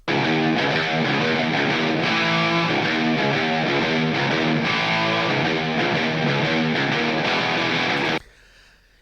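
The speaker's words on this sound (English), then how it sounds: "I would have never cut these guitars now with this much distortion." A loud, heavily distorted electric guitar plays a dense riff continuously, then cuts off abruptly, leaving faint background hiss.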